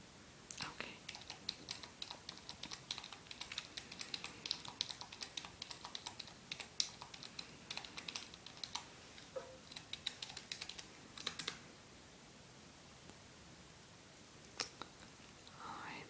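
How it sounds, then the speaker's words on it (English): Rapid, soft computer keyboard typing in irregular bursts, close and quiet, entering a carriage reservation into a booking system, with brief pauses between runs of keystrokes. "there's a lot of steps and typing involved for some reason with this new program they have for us"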